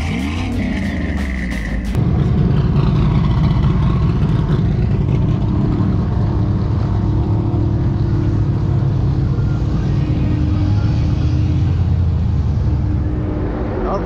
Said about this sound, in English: Sorry for the noise, there's crazy NASCARs driving all around me